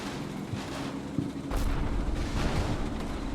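Grenade blasts going off in a World War II video game, heavy low rumbling booms with a sharp burst around the middle and continued thudding after, no voices.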